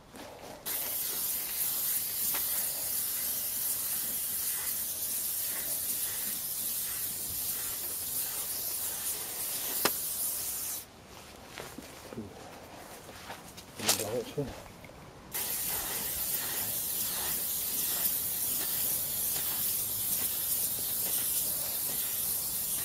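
A steady, close hiss of an aerosol spray can painting an alloy wheel runs almost continuously, pausing briefly in the middle before spraying resumes at the same level.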